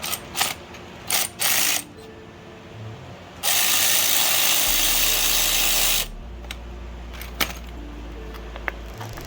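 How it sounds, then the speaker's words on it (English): A 10mm socket on a ratchet wrench loosens the brake master cylinder reservoir clamp on a 1990s Honda Civic, giving short bursts of close mechanical clicking, then a longer continuous whirring stretch and a few faint clicks. "it looks like it's just a 10mm socket or wrench, and that'll loosen up that clamp"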